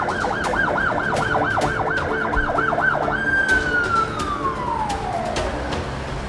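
Ambulance siren wailing in a fast yelp pattern that shifts into a long, steady tone and then slides slowly down in pitch, loud and continuous over background street noise.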